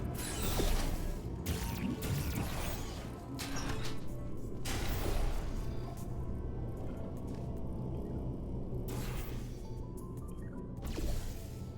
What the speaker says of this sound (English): Activating trap elevator.